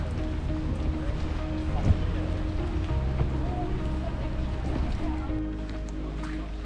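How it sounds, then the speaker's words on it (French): Steady rain falling outdoors on Aruba on a cool day, a continuous dense hiss with a low rumble underneath and a few louder patters, constant and close throughout. "il fait quand même frais, il pleut"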